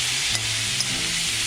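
Squid hits a hot pan for sizzling adobong pusit and sets off a loud, steady sizzle that hisses evenly throughout, with no talking.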